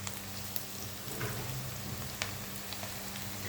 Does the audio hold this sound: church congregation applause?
no